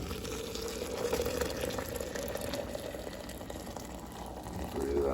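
Hot water poured into a cup for mint tea, a continuous close splashing and filling stream with a steady hiss that swells slightly near the end.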